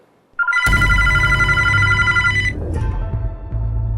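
A mobile phone rings loudly and close by with a bright, multi-tone ringtone that sounds for about two seconds, then cuts off to lower background noise.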